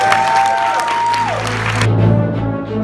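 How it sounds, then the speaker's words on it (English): An audience applauds after the world premiere of a Lego DC Comics Justice League Cosmic Clash film, dense steady clapping filling the room alongside a sustained musical tone, cutting off sharply near the end. "Give it a round of applause."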